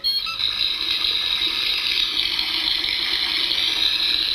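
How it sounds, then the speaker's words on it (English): Electronic running-water sound effect played by pressing a button on a toy baby doll bubble bathtub, a steady hissing, whirring stream that starts abruptly and continues evenly at close range, with no talking. "That sounds like water running."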